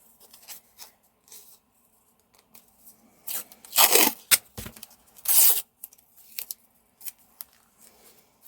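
Masking tape torn off a roll, several short, sharp ripping and crinkling bursts close by, with quieter rustles and pauses between them.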